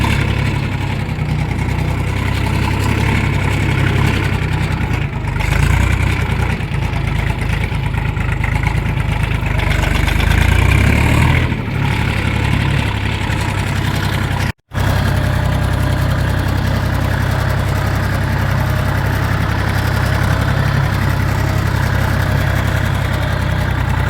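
Kentavr 244SX mini tractor driving off-road on a rough track in fourth low gear: a steady, heavy engine drone with a strong low rumble, running continuously throughout except for a very brief dropout.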